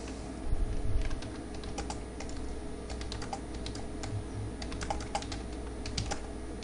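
Crisp, close keystrokes on a computer keyboard come in quick irregular bursts over a low steady hum, with no voices.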